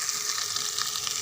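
Cumin and ginger paste fry in a pan for a vegetarian vegetable dish, producing a bright, continuous hissing sizzle, close and fairly loud.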